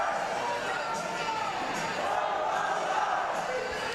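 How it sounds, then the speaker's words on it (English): High school student section chanting and cheering at a boys basketball playoff game, a steady, loud crowd roar filling the gym. "Assistant Principal Pete Zach over there leading some cheers with the pit."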